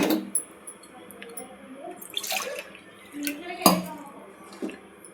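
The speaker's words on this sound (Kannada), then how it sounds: "ಎರಡು ಬಟ್ಲು ನೀರು ಹಾಕ್ತಾ ಇದ್ದೀನಿ" Water splashes and trickles into a pot for finger millet mudde, with clinks of metal utensils and bright drips mixed through, recorded close in a home kitchen, no talking.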